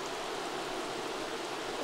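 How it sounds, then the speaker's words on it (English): Steady, soft rainfall in The Sims 3 university life game, an even hiss of drops heard faintly and continuously with no other sounds. "Oh, it does rain."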